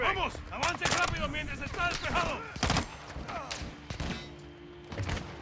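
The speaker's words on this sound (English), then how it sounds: "he's shooting through the freaking building" Sniper fire punching through a building during a prison break in Call of Duty Modern Warfare II: several sharp, loud gunshots with booming tails amid steady ambience, while voices talk over the shooting.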